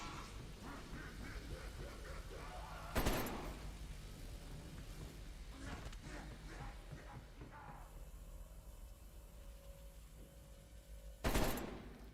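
Gunfire from Black Ops Cold War Zombies as a player shoots glowing orbs around a particle accelerator, with two sharp loud shots or bursts standing out over a busy, steady game soundscape.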